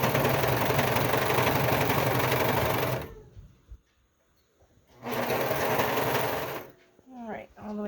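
A sewing machine stitches binding onto a quilt in a steady, close whir for about three seconds. It stops, then runs again for a shorter burst, with a voice speaking briefly near the end.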